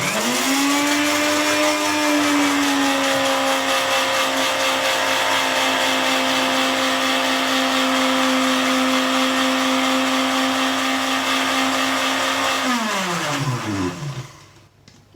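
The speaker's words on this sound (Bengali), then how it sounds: "আমি ডিমটা আগে ব্লেন্ড করে নিই।" An electric blender whirs loudly while blending eggs for mayonnaise, a steady high motor whine that holds for about twelve seconds before spinning down and stopping.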